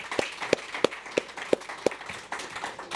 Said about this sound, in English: Let's give Ashwa an applause.